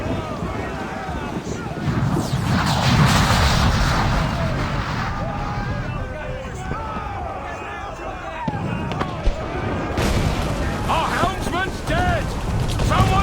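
Ship cannons in the Assassin's Creed IV Black Flag video game boom amid wind and sea noise aboard a sailing ship, with shouted crew voices over the battle.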